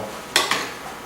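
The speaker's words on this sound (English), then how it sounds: "So, I've got a glass, get my pitcher." A drinking glass and a pitcher clink together twice in quick succession, close and crisp, while a wheatgrass juice is being set up; quiet room otherwise.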